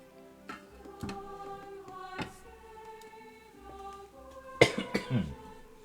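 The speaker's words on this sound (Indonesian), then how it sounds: "Masih batuk" A man coughs a few times, faint single coughs early on, then a louder burst of several coughs near the end, over a quiet indoor hum.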